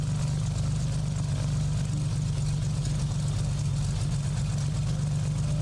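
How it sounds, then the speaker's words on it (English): A loud aircraft engine drones steadily in a flight simulator during a high-altitude VFR flight, a constant low heavy hum with no breaks and no voices. "It's been a while since I've flown this plane. Forgot how frickin' loud it is."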